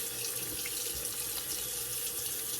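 Tap water running while a shaving brush is rinsed, a steady close hiss of flowing water at a sink with no talking.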